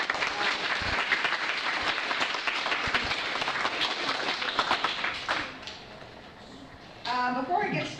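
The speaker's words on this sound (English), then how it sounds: "I'd like to just take a moment to give these kids, even before they start, a round of applause." An audience applauds schoolchildren before their reading at a university-hosted event, a dense burst of clapping that thins out and fades, followed by a speaker's voice starting up near the end.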